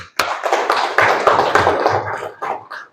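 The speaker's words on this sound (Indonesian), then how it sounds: "Oke, berikan tepuk tangan." Students in a classroom give a burst of brisk, close applause, dense clapping that builds then tapers off over a few seconds.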